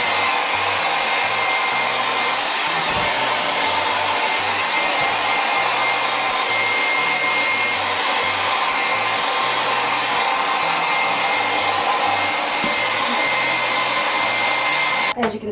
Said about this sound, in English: what I'm trying to do is keep it stretched and blow it dry